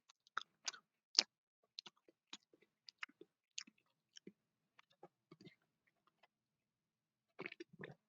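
Close, wet chewing of American food, sparse crunchy bites and mouth clicks scattered over near silence, with a denser burst of chewing at the end.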